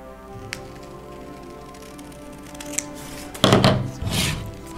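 Scissors cut through contact paper for a glass-etching stencil on wine glasses, giving a few quiet snips and then a louder crinkling, crisp cut near the end, close up with no talk.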